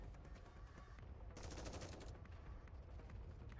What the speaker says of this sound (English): Mass-produced Nikke has opened fire at Dorothy.